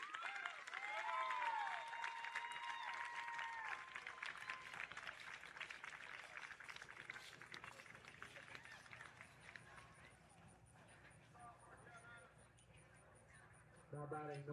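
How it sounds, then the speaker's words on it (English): A crowd at a DYB D1 AAA World Series youth baseball game applauds the North Carolina team, a faint, distant wash of clapping beneath a public-address voice and other ballpark sounds. "would you please give them a round of applause for their play this week?"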